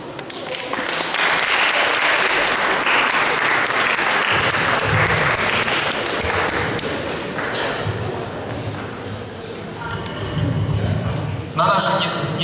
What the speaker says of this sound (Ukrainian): вашими аплодисментами приглашаем все команды на сцену